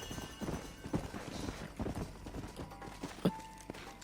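Horse hooves clip-clop at a walk in the Western video game Red Dead Redemption, a soft irregular plodding heard faintly against a quiet ambient background.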